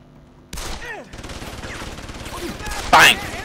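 Pistol fire in Deus Ex: Human Revolution, with sharp gunshots cracking through busy game noise and one loud close shot near the end.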